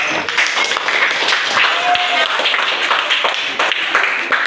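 Primary school children in a fifth-grade classroom clap together, a lively patter of small hands with some louder individual claps, close and slightly echoing.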